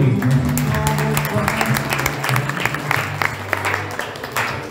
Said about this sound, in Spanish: Mucha felicidad y un aplauso para ustedes